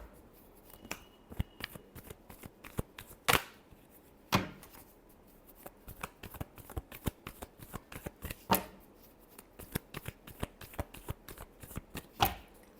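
A deck of tarot cards is shuffled by hand nearby, a rapid series of sharp riffling snaps and slaps in bursts, with a few louder clacks as the deck is squared.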